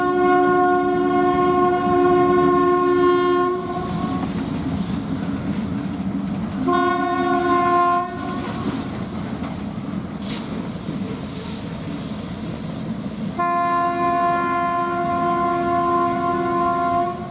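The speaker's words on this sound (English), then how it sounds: "a pretty late night running CN trains here" A loud CN freight train horn sounds in three long blasts over the rumble and clatter of the passing freight train at night.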